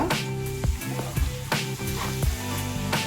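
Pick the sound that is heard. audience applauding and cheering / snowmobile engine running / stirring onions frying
stirring onions frying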